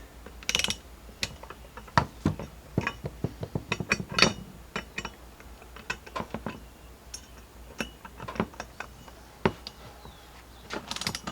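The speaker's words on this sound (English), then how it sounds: "now we'll go ahead and torque this down to crisscross pattern down to 9 foot-pounds" Bolts on a 2018 Jeep Grand Cherokee Pentastar 3.6L oil cooler are torqued down in a crisscross pattern, giving a steady run of quiet, close ratchet clicks and small metallic clinks throughout.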